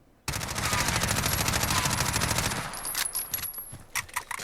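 Automatic MP5 submachine gun fire in Call of Duty Modern Warfare, a loud, rapid, sustained burst of closely spaced shots for about two and a half seconds, then a few scattered impacts and clinks as it stops.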